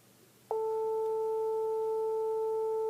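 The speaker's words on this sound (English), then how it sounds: "Okay, now I'm going to play a different sound for you. This is just slightly off concert A," A steady pure tone of 441 Hz, just off concert A, begins abruptly after a short quiet moment and then holds unbroken at an even, fairly loud level until the end.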